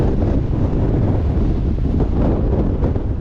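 Strong wind buffets the microphone during a 125cc motorcycle trip on Patagonian roads, a loud, constant low rumble filling the whole clip with no pauses and no talk.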